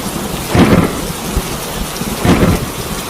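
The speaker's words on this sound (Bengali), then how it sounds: "তার পরের দিনই গ্রামে এক বিশাল ঝড় হলো" Heavy rain pours steadily while two deep rumbles of thunder roll through, one early and one near the end.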